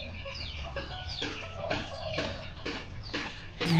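Chickens clucking in a small home garden, a steady run of repeated clucks and short calls at close range, with no talk over them.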